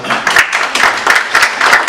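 Audience applause for a speaker at a Francophonie youth and sports ministers' event, a dense, steady wash of many hands clapping that rises and falls in waves across the room.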